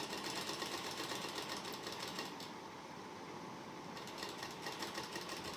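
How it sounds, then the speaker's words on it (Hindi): A sewing machine stitches seams on a baby suit, giving a steady, fairly faint whirring hum that runs without a break for the whole stretch. "उसके बाद इधर से भी सिलाई लगा देंगे"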